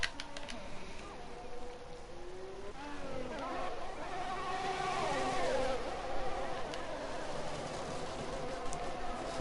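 A Racing Point and a Renault Formula 1 car racing in an F1 video game at Singapore, engines whining and shifting pitch as they run close together, heard under a commentator's talk.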